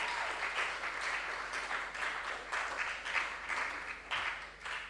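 An audience at a school science and maths quiz competition claps steadily for a team, a dense, even round of applause that carries on throughout without anyone speaking.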